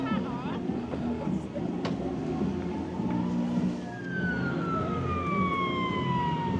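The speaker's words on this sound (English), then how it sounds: "I can hear sirens again. It's kicking off in Blackpool. It's an ambulance this time" Ambulance siren wailing through the back streets of central Blackpool at night, starting faint and growing into a clear, loud descending wail over the last few seconds above steady street noise.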